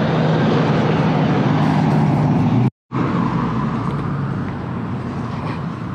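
A 1986 Ford Ranger driving with a steady loud engine and road roar, broken by a brief cut, then running on slightly quieter; no distinct brake squeal stands out.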